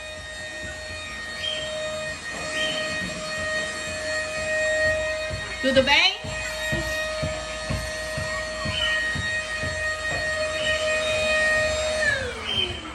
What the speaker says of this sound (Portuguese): mamãe vai ligar o aspirador